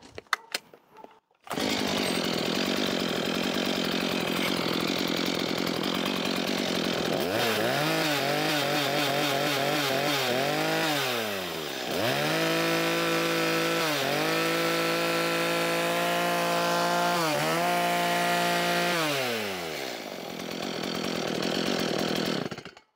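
A Stihl MS 180 gasoline chainsaw runs loudly and steadily, its engine repeatedly revving up and dropping back through the clip, with no other sounds.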